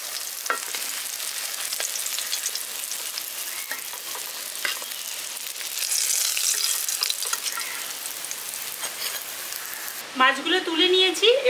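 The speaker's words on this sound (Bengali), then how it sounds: "আমি অপর পিঠটাও ভেজে নিচ্ছি" Rohu fish pieces frying in hot oil in a pan, a steady close sizzle with scattered pops and crackles, broken near the end by a brief scraping clatter as pieces are lifted out.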